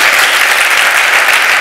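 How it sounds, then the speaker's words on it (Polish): Dense, steady audience applause fills a literary award gala hall, loud and continuous with no voices over it, many hands clapping at once. "Brawa dla wszystkich."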